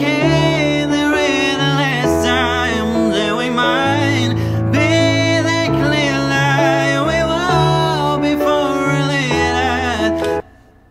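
Sung vocal mixed over a backing track and treated with delays, chorus, flanger and reverb, playing as a continuous, loud, full mix for about ten seconds before stopping abruptly.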